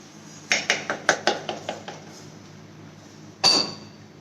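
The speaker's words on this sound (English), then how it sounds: "now I will put a pan on for the tempering." A metal pan is set down on a kitchen stove for tempering, making a quick run of clanking, ringing knocks that fade out, then one final sharp metallic clank after a short pause.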